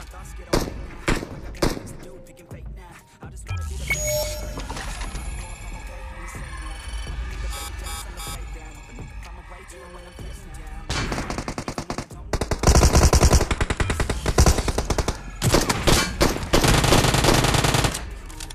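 PUBG gameplay gunfire from an M24 sniper rifle and an Uzi: single sharp shots early on, then dense rapid automatic bursts that grow louder and more sustained toward the end, over game ambience.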